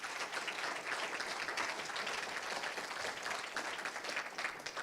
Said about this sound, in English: A round of applause for those volunteers